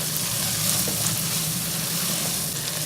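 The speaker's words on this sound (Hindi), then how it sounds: "इसे 1 से 2 मिनट फ्राई करें।" Curry leaves and green chilies frying in ghee with the spices for a fish pulao, giving a steady, close, dense sizzle with soft stirring and no voices.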